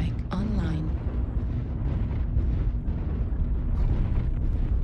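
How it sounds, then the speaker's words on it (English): Airstrike explosions rumble continuously in MechWarrior Online, a dense low booming roar that runs the full length with a brief tonal chirp near the start. "Airstrike online."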